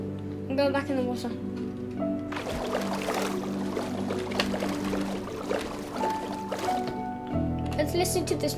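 Splashy, gurgling water sounds come from swimming in the Minecraft video game, with tonal game music notes layered over the water and a voice speaking at times.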